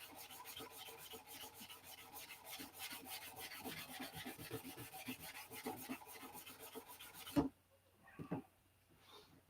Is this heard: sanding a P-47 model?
yes